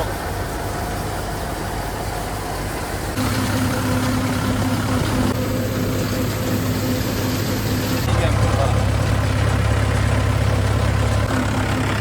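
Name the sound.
tractor engine idling on a farm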